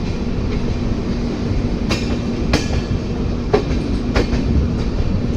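A train rumbles at a station, low steady drone with a tonal hum and several sharp metallic clanks and clicks over it.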